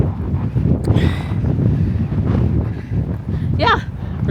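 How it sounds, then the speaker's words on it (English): Strong blustery coastal wind buffets the microphone in Newfoundland, a loud continuous rumble with gusts, and a voice briefly heard over it. "it's really blustery. We've had a lot of winds the last few days,"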